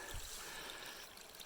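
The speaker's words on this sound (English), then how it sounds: "This is the water flowing out of the overflow" Spring water spilling steadily out of a tank's overflow pipe at the back of a well tank, a faint continuous trickling and rushing, close by and uninterrupted.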